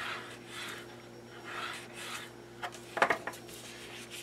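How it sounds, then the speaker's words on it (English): Folded paper crease being sharpened for a 6x6 mini album, soft rhythmic rubbing strokes close by, followed by a brief cluster of crisp scraping clicks near the end. "We're going to sharpen the crease."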